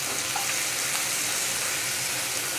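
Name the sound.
onions with turmeric frying and being stirred in a pan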